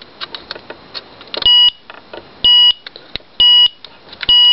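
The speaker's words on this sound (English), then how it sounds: "Chime, timer." Electronic timer chime on a high-tech vintage camera: four loud, clear beeps in an evenly spaced series, close and alone, with softer clicks and handling noise between them.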